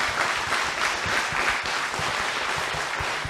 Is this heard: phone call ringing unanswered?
no